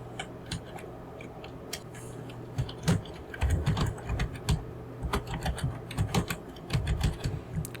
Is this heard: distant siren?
no